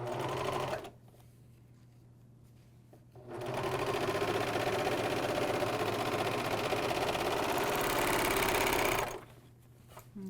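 An AirThread 2000D professional serger chain-pieces fabric for a bathrobe, its fast mechanical whir running loud and steady for several seconds between quiet pauses.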